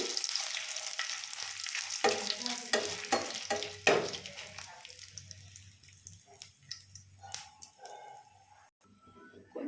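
Dried red chillies frying in oil in a pan, with a sputtering sizzle and frequent spoon scrapes and clicks early on, thinning to quieter crackle and a low hum toward the end.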